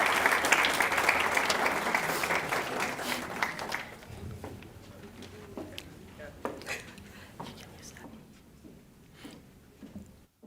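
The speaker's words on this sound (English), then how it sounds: "Dr. Hlongwa, please give her a round of applause as she walks up on the stage." An audience at a university language policy conference applauds as a speaker walks to the stage, dense clapping that fades after about four seconds into scattered claps, footsteps and room noise.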